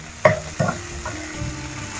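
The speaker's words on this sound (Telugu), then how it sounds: "టమాటాలు వేస్తున్నా, వీటిని ఫ్రై చేసుకోవాలి." Tomatoes go into a pan with a little oil for dosa chutney, giving two soft thuds and then a low, gentle sizzle as they start to fry.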